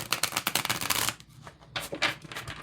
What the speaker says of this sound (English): It's a really nice deck to shuffle